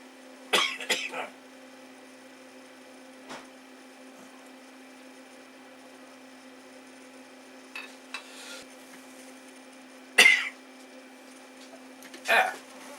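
A few short, harsh coughs burst out at intervals, close by, separated by long quiet stretches over a steady low hum.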